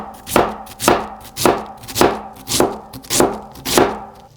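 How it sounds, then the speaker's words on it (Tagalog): A knife slices cabbage thinly on a board, about seven crisp rhythmic chops evenly spaced and close, with nothing else heard. "Hiniwa ko lang ng maninipis ito."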